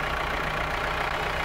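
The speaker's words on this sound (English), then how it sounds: "You get to drive a fire engine." Steady, loud engine rumble of a fire engine being driven in an airport firefighting simulation game, continuous and unbroken throughout.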